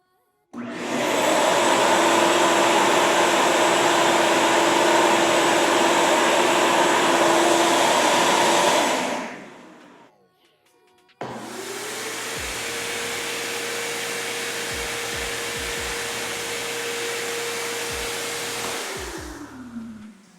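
Two shop vacuums run one after the other in a sound test, one of them a Dewalt Stealth Sonic: a loud, steady roaring whine for about eight seconds that spins down, then a second slightly softer, lower steady drone that spins up and runs to the end.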